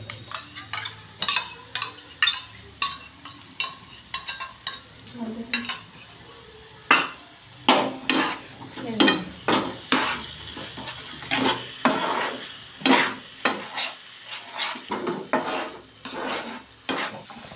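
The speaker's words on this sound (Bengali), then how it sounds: "মশলাটা কষা হয়ে গেছে" Spice masala for a prawn and yogurt curry fries in a pan, and a spatula scrapes and knocks against the metal in quick, uneven strokes close up over a soft sizzle. No one speaks.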